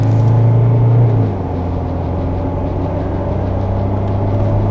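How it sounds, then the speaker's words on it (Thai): An Isuzu D-MAX pickup lifted six inches pulls out onto a main road, its engine a steady low droning rumble heard from inside, with a brief drop in tone early on and no talk. "เดี๋ยวเรามาสังเกตการออกถนนใหญ่นะครับ การออกตัว การใช้ความเร็วสูง"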